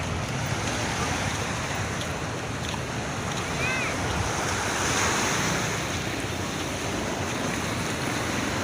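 Sea waves wash continuously at the Virac pier in Catanduanes, a broad steady surf roar mixed with wind buffeting the microphone.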